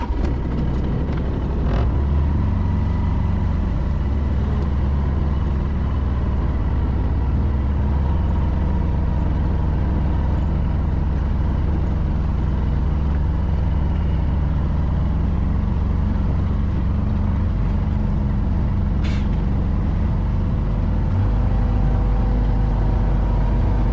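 Car engine running steadily during a short drive, a continuous low rumble with road noise throughout and a couple of faint clicks.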